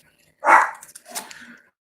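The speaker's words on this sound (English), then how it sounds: "So here's my dog barking." A dog gives a short bark followed by a few weaker yips, close by in a quiet room, with a brief burst then trailing sounds.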